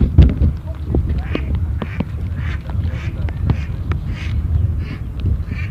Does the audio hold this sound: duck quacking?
yes